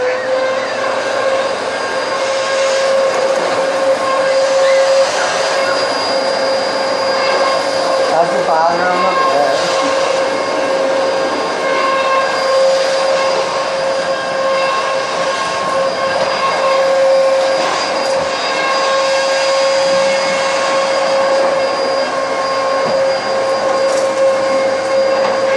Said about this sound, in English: we're gonna start the vacuum cleaner.